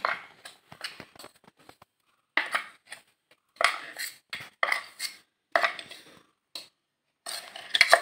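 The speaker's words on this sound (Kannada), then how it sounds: "ಈಗ ಇದನ್ನೊಂದು ಪಾತ್ರೆಯಲ್ಲಿ ಹಾಕಿಡ್ತಾ ಇದ್ದೇನೆ." Ground sambar powder is spooned into a vessel, giving scattered bursts of scraping and light metallic clinks separated by brief silences.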